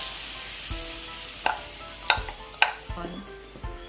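Cream simmers in a pan with shrimp and onion, a soft steady sizzle broken by a few sharp spoon clinks and scrapes against the pan.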